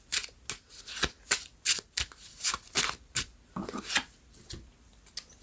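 Playing cards being shuffled in repeated riffles and soft snaps, close and fairly loud, with short pauses between bursts and no talking.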